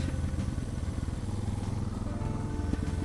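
Suzuki DR650 dual-sport motorcycle cruising through a neighborhood, its engine a steady, loud low-pitched drone with a rapid pulsing beat that holds even for the whole stretch, close to the rider.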